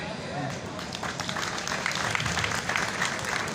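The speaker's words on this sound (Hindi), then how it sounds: "इस बात पर तो आप स्टूडेंट्स खुद ही तालियां बजा दें।" Students applaud together in a college hall, a steady wash of many hands clapping at moderate loudness that continues throughout, with voices mixed in.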